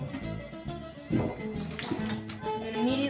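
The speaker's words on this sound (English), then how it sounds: "and then immediately run cold water" Cold tap water runs from a faucet over cooked spaghetti noodles in a colander, a steady close splashing rush that continues without a break for the whole stretch.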